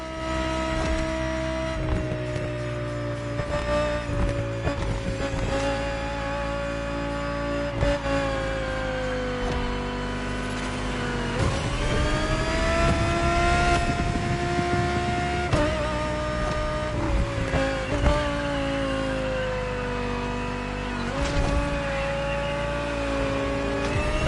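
A 2020 Audi R8 LMS GT2 race car in the video game Motorfest drones and revs steadily, its engine pitch rising and falling through gear changes, loud and continuous throughout.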